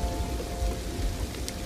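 Steady rain effect in a children's weather lesson, a continuous dense hiss of drops on a surface, even in level and heard alone without voices.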